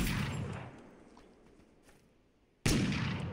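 Flintlock pistol shots at a firing range in a video game: a loud booming report that decays into a long tail, then a second sharp, heavy shot cutting in near the end.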